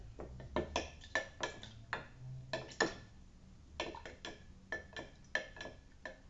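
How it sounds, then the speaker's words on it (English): A spoon stirring a tej mixture of Ethiopian honey wine, sharp irregular clinks and taps against the container in quick clusters, close and fairly quiet, with no talking. "I'll give this another stir"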